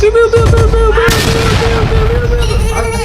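Rapid gunfire and booming blasts from an animated Skibidi Toilet battle crowd the sound, loud and continuous over a steady tone, with voices and music mixed in.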